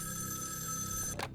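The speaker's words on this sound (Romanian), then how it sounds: "Sună telefonul, sună telefonul." A telephone rings in the horror video game Evil Inside, a sustained electronic bell tone that stops abruptly and is followed by a brief soft click or thump.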